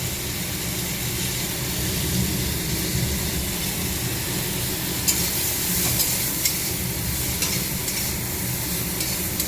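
Moringa drumsticks cook in a pan with a constant broad sizzle, while occasional light clinks and scrapes of stirring sound up close.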